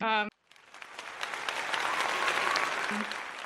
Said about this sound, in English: Insert round of applause there